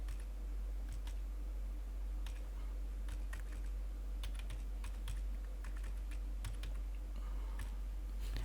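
Someone types on a computer keyboard, soft irregular key clicks at a moderate pace over a steady low hum, quiet and close with no speech.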